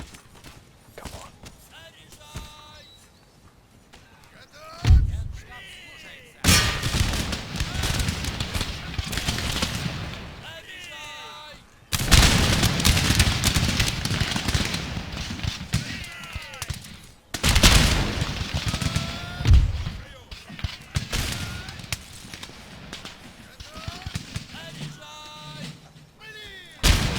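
Musket volleys and artillery fire in the Empire Total War strategy game, several loud rolling crashes of massed firing separated by quieter gaps of scattered shots and hoofbeats, with a player speaking between them.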